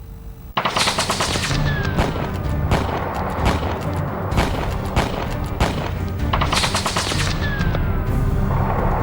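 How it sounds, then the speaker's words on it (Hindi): Sustained automatic gunfire from a firefight against militants in Kupwara, Jammu and Kashmir, with rapid bursts and single shots cracking loudly and continuously throughout, no voices. "जम्मू कश्मीर के कुपवाड़ा में उन आतंकियों के खिलाफ गोलियां बरस रही हैं"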